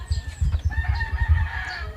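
Backyard chickens cluck in short, irregular bursts close by, with a few higher calls layered over the low, throaty clucking.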